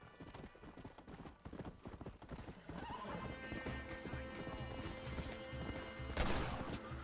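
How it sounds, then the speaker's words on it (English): A fast horse gallops in Red Dead Redemption on Xbox One, with rapid rhythmic hoofbeats carrying throughout, whinnies and neighs, and a sharp burst of noise near the end. "Got my super fast horse now."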